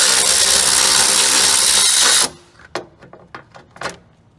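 Power tool spinning loudly and continuously on a 10 mm bolt at the bottom of a Chevy Cavalier radiator fan shroud, then cutting off, followed by several sharp metallic clinks and knocks.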